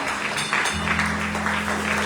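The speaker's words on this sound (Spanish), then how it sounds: "Dale fuerte ese aplauso al Rey" Congregation in a church service applauding in a steady rhythmic pattern, clapping bursts over a held musical tone, moderately loud.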